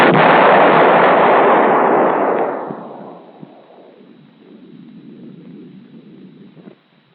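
A Nike Hercules missile launches with a huge, loud roaring blast that fills the first few seconds, then fades over about a second into a low, distant rumble that trails off alone.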